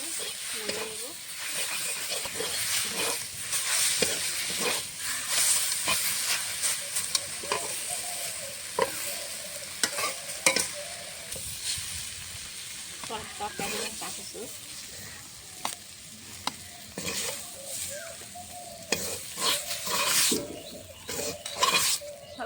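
Jute leaves (pat shak) fry in a pan with a continuous crackling sizzle, punctuated by frequent scraping stirs and metal clinks of a utensil against the pan, close and steady throughout.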